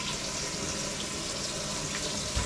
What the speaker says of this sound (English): I always cut my hot water on if I'm going to drain.